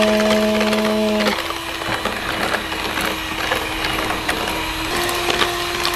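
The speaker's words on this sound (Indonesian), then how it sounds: "gua kocok kecepatan tinggi ya." An electric mixer beats potato cake batter at high speed, whirring steadily up close with a brief higher-pitched whine at the start and again near the end.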